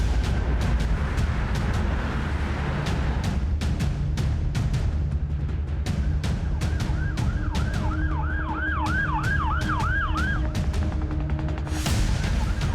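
An ambulance siren wails and yelps in the middle distance over steady road and vehicle noise, with sharp clicks scattered throughout.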